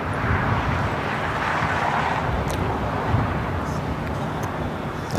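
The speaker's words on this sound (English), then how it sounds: "Got that Eva Air Cargo 777 freighter now lighting up." An Eva Air Cargo Boeing 777 freighter at LAX, engines starting, giving a steady, broad, rumbling roar with a low hum that holds evenly at moderate distance.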